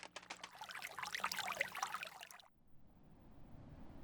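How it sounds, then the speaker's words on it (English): Water trickles and patters as drops roll off a lotus leaf, a bright, close splashing for a couple of seconds that stops abruptly, leaving quiet background. "When drops of water fall onto the leaf, they are forced to roll off"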